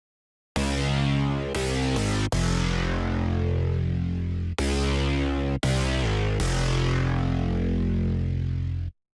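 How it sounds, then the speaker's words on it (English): Serum synth bass preset named Basement plays a series of deep, sustained notes, each held a second or two with sharp starts and stops, rich buzzy tone, loud and close with no voices. "This first bass I'm going to show you is called Basement and sounds like this."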